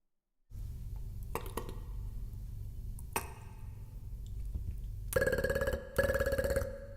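Someone beatboxes an imitation of Skype notification sounds: a voice makes a low steady hum broken by a few pings, then bright rising call-like tones near the end.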